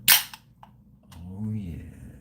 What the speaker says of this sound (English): Let's crack a beer, see what it sounds like.